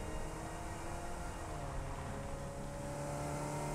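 A car drives steadily in the video game Satisfactory, with a continuous droning engine hum and whir at even level, no talking.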